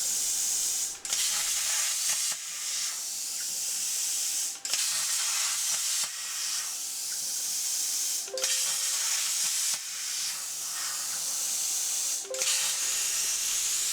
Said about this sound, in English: In my case, I'm using my CNC construction set plasma cutter.